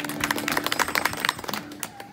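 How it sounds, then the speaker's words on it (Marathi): Audience clapping at a Datta Jayanti bhajan event, a burst of quick, dense hand claps from a crowd lasting about two seconds, fairly close and steady before fading. "एकदा जोरदार टाळ्या दोघांसाठी होऊन जाऊ दे."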